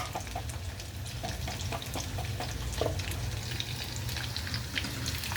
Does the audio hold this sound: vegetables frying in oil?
yes